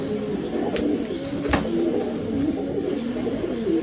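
Pigeons coo steadily inside a loft, soft repeated low calls layered over one another with a constant background hum and a couple of brief sharper chirps.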